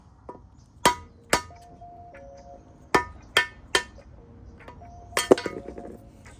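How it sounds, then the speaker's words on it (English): A small hammer taps metal parts during a K Series transmission teardown in a workshop: about nine sharp, close metallic clinks in irregular bursts, some ringing briefly, with faint low tones and handling noise between strikes. "And then a little hammer."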